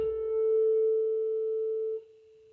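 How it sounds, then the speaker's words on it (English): A tuning fork resonating in sympathy with a struck one sustains a pure steady tone; the fuller sound drops away near the end, leaving the quieter fork still ringing faintly on its own. "The second one continues, the second one, we can hear it, right? It's still vibrating"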